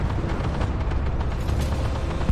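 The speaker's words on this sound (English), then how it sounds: "There we go, put a shot into Bradley." A tank cannon shot in the Armored Warfare game with a Challenger 2 tank: a dense, heavy low rumble of blast and engine noise filling the whole moment, with a sharper thump at the very end.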